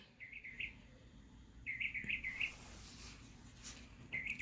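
Small birds in a neighbourhood chirp in short, bright bursts of a few quick notes, with pauses between calls over a quiet outdoor background.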